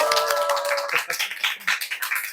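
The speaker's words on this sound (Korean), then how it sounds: "우리 박수하면서 시작하겠습니다." Members of a Bible study group on Romans clap together to open the session: a short held tone at first, then a quick run of close, rhythmic hand claps.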